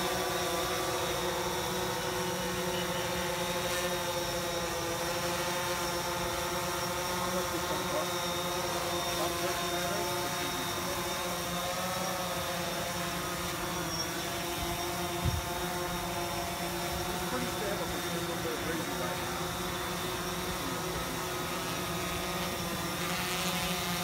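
A drone flying at a video-making meetup in Silicon Valley, its steady whining motor hum running continuously beneath faint crowd noise for the whole stretch.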